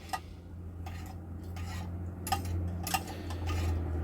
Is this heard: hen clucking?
no